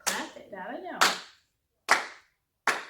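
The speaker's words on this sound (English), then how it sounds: "We start by clapping." Hand claps ring out in a slow, uneven rhythm: four sharp, close claps, the first one with a voice talking under it.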